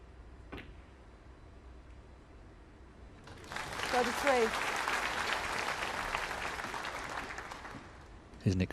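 A big snooker crowd breaks into applause at the Shanghai Masters, the clapping swelling suddenly after a quiet stretch with a single sharp click and lasting several seconds.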